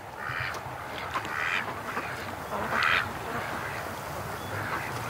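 A few ducks quack in several short bursts spaced over a few seconds, moderately close, over a constant hissing background noise.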